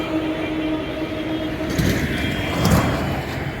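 A train passes through Bally Halt railway station with a steady, fairly loud rumble and hiss, swelling with a couple of heavier clunks toward the end.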